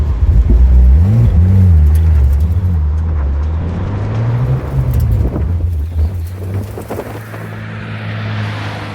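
A rebuilt Porsche 997 911 Turbo on its first drive, with a loud, close engine drone that climbs and dips in pitch as it revs and settles, under steady wind noise.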